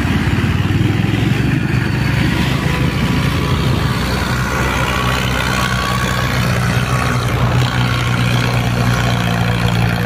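A Mahindra Arjun 605 tractor engine labors in first gear hauling a heavily loaded high trolley uphill, a loud, steady low diesel drone with continuous throbbing mechanical clatter close by throughout.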